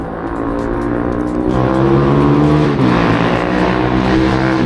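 Loud motorbike engines roar and rev continuously close by, swelling as they pass, with no voices, on Southend seafront.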